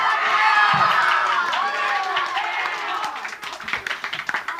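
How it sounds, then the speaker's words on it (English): Audience members at a Crock-Pot battle of the bands clap and cheer loudly and close by, a thick roar of voices and applause that gives way to sharper individual claps and shouts in the last second. "Let the sounds of their clapping and their voices be your drive to keep working."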